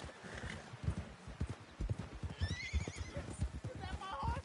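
A horse whinnies and its hooves clip-clop in a steady rhythm in the Red Dead Redemption 2 video game, with someone talking over the sounds and a brief melodic cue rising in the background.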